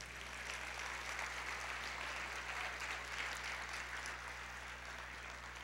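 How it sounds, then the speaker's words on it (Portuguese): Audience applause at a church service, a steady dense wash of clapping from a crowd, moderately faint and continuous throughout with no talk over it. "Isso não merece uma salva de palmas?"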